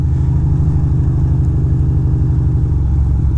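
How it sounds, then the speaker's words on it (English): A motorcycle cruising along New York City streets, with a loud, steady engine drone and a rhythmic low throb, close and continuous. "I am on my bike and we are cruising."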